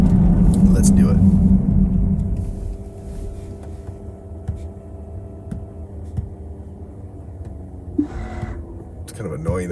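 A Tesla Model S Plaid launches from 0 to 60 in track mode, a loud low rumble and road roar swelling at first, then easing into a quieter cabin hum as a voice talks over it.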